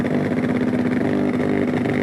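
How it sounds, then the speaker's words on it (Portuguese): A car's tuned ECU producing exhaust pops and bangs, heard as a loud, steady engine drone with rough crackling throughout, close to the exhaust and with no talk. "Que é aquelas explosões que tem no escapamento."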